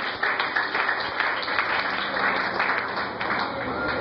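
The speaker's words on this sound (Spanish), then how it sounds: "Dale un aplauso a Cristo." Church congregation applauding steadily through the whole stretch, a dense wash of claps with voices mixed in underneath, moderately loud and even.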